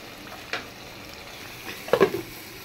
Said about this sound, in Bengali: কলিজাটা কষাই নিতেছি